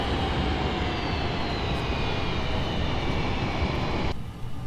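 F/A-18 Super Hornet jet engines roaring at full power while braking after landing at NAS Pensacola in Microsoft Flight Simulator, a loud steady whine and rush that suddenly drops near the end.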